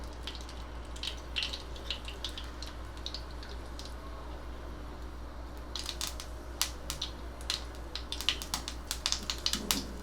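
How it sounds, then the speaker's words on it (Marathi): Mustard seeds splutter in hot oil in a pan for the tempering of a cauliflower, pea and carrot curry, giving scattered sharp crackles and pops that grow busier toward the end over a low steady hum. "मोहरी तडतडली की जिरं"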